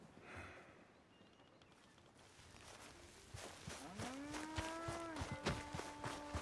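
Cattle mooing on a ranch in Red Dead Redemption 2, with several long, drawn-out lowing calls from the herd at close range over faint outdoor ambience, growing louder in the second half.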